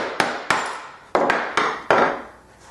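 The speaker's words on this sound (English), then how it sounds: "I'm going to give a little bit of relief with the chisel." A chisel struck with a mallet chops into wood on an English picture frame, five or six sharp, close knocks at uneven intervals, each with a short ringing decay.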